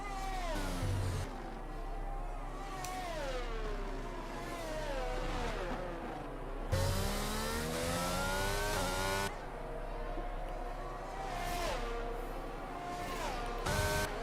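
Race car engines in a racing video game on the Bahrain circuit, several cars whining and rising and falling in pitch as they shift and pass, a continuous layered roar at moderate level.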